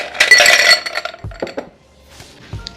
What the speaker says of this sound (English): Gonna add some ice to my glass.